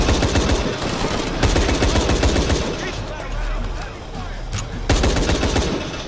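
Rapid gunfire bursts from Shadow of the Tomb Raider gameplay with Lara Croft, loud and dense automatic shots with brief pauses between volleys.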